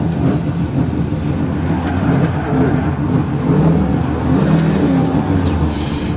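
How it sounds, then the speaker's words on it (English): Mazda RX-7 rotary engine at a hillclimb, revved and held ahead of the launch, a loud buzzy drone with repeated surges heard from nearby. "He's winding the rotor up, getting ready to launch it."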